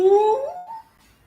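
A single voice hums into a closed water bottle with the soft palate raised, giving a muffled, rising tone that swells and then fades out within about a second.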